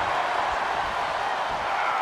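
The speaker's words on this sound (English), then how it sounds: "when you can't hear yourself think because the crowd's so loud" Loud wrestling arena crowd at a WWE tag team championship match, a dense, steady roar of many voices filling the space without pause.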